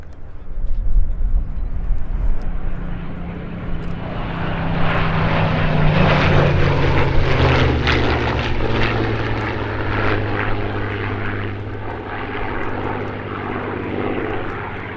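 Propeller aircraft of the Flying Bulls flying in a four-ship formation past the crowd at the Sywell airshow, a loud droning engine roar that swells as they approach and stays strong for a sustained pass.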